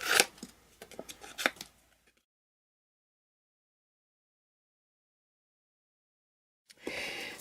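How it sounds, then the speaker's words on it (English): Scissors snip through paper in a short run of close, crisp cuts, followed by several seconds of silence and then a brief burst of rustling paper. "Now I'm going to fussy cut this."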